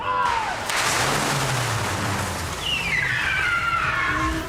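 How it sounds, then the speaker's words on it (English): A car races in fast during a stunt shot on a movie set, where it lands and spins out of control. A loud rushing engine sweep falls in pitch as it passes close by. "the car's coming in really fast"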